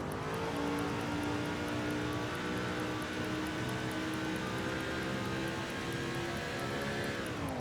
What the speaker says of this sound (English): This car is only getting faster as the laps go on.